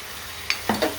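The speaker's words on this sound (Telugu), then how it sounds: "ఎండుమిరగాయలు వేసి" Dried red chillies fry in hot oil in a pan for tomato chutney, a soft steady sizzle broken by a few quick stirring clinks, close and brief.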